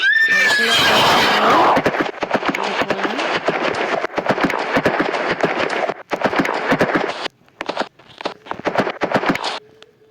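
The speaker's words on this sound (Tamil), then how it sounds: "குதிரையெல்லாம் இருக்கு." A horse in the Roblox video game neighs loudly at the start, followed by repeated sharp hoof clip-clops and thuds in an uneven, choppy rhythm.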